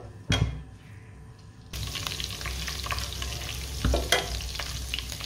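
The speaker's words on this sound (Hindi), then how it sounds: "अच्छे तरीके से फ्राई कर लेंगे इसको।" Garlic and ginger paste frying in half a cup of hot ghee, a steady close sizzle with a couple of sharp spoon clatters as it is stirred.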